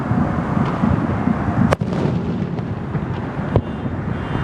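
Fourth of July fireworks boom in the distance along Beach Boulevard, producing a continuous rumbling crackle with a couple of sharper reports standing out over steady outdoor noise.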